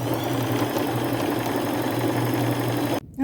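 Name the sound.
sewing machine sewing lace onto sleeve strips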